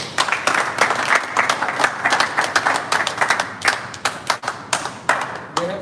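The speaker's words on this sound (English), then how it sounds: "Clap, guys, please" A crowd at a Dubai Open sports event applauds, with lively, uneven clapping from many hands, fairly loud and close throughout, easing slightly toward the end.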